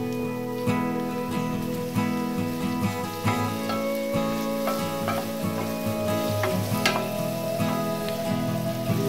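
Carrots frying in a pan for Greek kalderita, a loud continuous sizzle with scattered crackles and stirring scrapes throughout.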